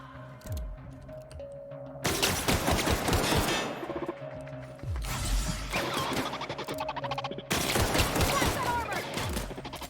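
Video-game gunfire from The Outer Worlds crackles in several loud bursts of rapid shots separated by brief lulls, with low thuds and a steady tonal hum underneath.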